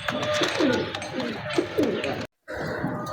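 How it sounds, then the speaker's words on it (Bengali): A male Kasuri pigeon coos close by in soft, repeated throaty calls, with a brief silence near the end. "এটা হলো মেল কবুতর কাসুরি"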